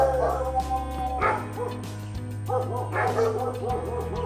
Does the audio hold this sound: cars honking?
no